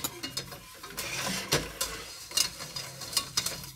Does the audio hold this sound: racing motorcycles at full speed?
no